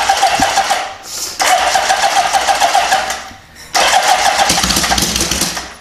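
A Honda CB750 motorcycle engine cranks with a rapid whirring starter, catches briefly, stops, then cranks again in two loud, close bursts separated by a short pause.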